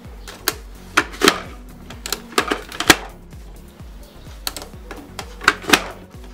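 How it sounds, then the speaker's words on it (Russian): Rapid, irregular mechanical clacks and thunks from a kitchen dicer cutting radish into cubes, loud and close, with no talking. "вот такой вот у меня есть кухонный девайс, прибор, и все нарезаем кубиком"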